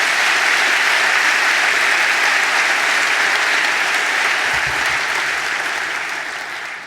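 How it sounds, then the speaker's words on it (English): Sustained applause from a large audience at a school district back-to-school faculty meeting greets the school board, steady and loud throughout before tapering slightly at the end. "With your applause, please do that."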